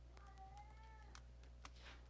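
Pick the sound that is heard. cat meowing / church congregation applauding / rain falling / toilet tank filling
cat meowing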